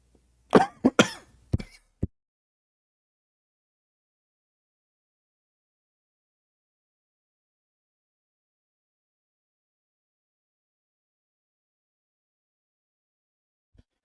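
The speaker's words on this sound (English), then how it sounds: "Sorry for coughing." A man coughs several times in a quick burst near the start, followed by a short throat noise, then long silence with a faint click at the very end.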